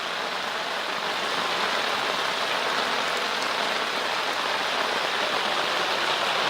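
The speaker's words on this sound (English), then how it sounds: "The water is bypassing and going around here." Drainage water flows steadily down a gully, a constant broadband rushing wash that stays even and close throughout with no talking.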